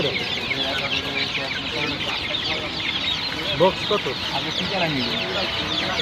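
Chickens cluck steadily at a busy poultry market, with the sound continuing throughout while people talk and haggle over prices.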